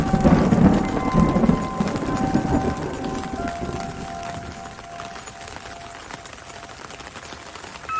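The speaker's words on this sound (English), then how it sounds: "Just then, it began to rain" Steady rain pours down in a dense, continuous hiss, heaviest at first and gradually easing a little while staying constant throughout.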